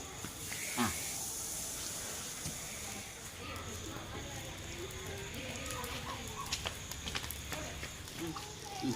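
Fish on skewers grilling, giving off a steady broadband hiss of sizzling for the whole stretch, with faint background chatter and a few sharp ticks.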